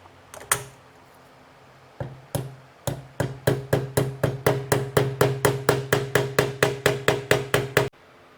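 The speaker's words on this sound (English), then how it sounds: "So I need to hammer it in flush" Sharp metal hammer blows ring out while driving a bearing flush into a 2017 KTM motorcycle engine case, a few spaced strikes and then a long, steady run of evenly paced taps, close and loud.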